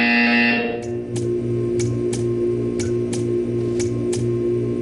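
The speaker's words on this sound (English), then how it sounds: "You will hear a buzzer." Repeating buzzer pulses in the Portal 2 video game test chamber, short electronic bursts at an even rhythm of about one every half second, over a steady droning hum that follows a brief louder tone at the start.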